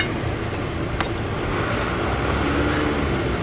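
Diesel engine of a 2014 VW Passat TDI held at high idle, a steady, even rumble running continuously without any talk.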